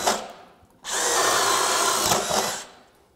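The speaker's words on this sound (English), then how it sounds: "Let's start drilling here with the 800 and see how it does with a 1-inch spade bit" A brief whir precedes a DeWalt DCD800 20V compact cordless drill boring through wood with a 1-inch spade bit, a loud, close, grinding whine lasting nearly two seconds before stopping.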